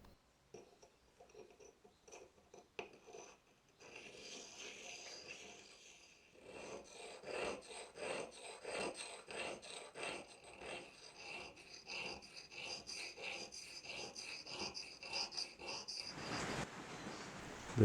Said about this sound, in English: the faces get cleaned up on the whetstone